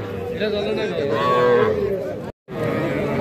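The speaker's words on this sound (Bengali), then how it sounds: "এই পাশে একটা আমরা বকনা বাছুর দেখতেছি" Heifer calf and other cattle at a busy livestock market, a drawn-out moo rising over crowd chatter and voices, followed by a brief cut and more background murmur.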